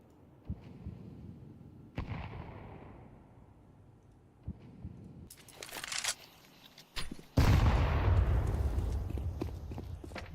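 Counter-Strike match gunfire from CZ pistols and MP9 submachine guns: sharp cracks scattered through the opening seconds, then a dense burst of rapid shots and a loud sustained blast near the end.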